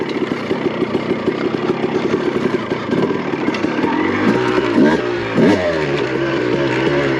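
A Honda CR250 two-stroke motocross dirt bike engine, buzzing close by with rapid throttle blips and rising, falling revs that swell in the latter half, no talk over it.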